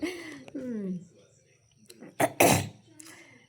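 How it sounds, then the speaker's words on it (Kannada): A person with a mild cough coughs twice in quick succession, close and fairly loud, after a stretch of speech at home. "ಸ್ವಲ್ಪ ಕೆಮ್ಮು ಇದೆ ಹೇಳ್ಬೇಕಂದ್ರೆ."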